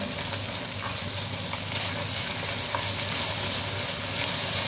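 Shrimp sizzling in a hot pan for rice stick noodles, a steady loud crackling hiss with faint pops throughout, close up and uninterrupted, with no voices.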